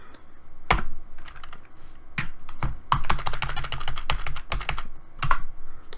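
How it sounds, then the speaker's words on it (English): Someone types on a computer keyboard, entering a command at a command-line prompt: irregular bursts of crisp, close key clicks with short pauses between runs, ending in a firmer keystroke. "I'll just type in MIA or whatever the name of the ROM is"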